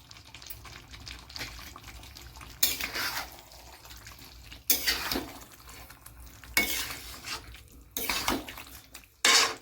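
A utensil scrapes and clinks against a pan as chopped tomatoes are stirred into a Bihari chicken curry, making several separate bursts of stirring with a soft sizzle underneath, fairly quiet and close.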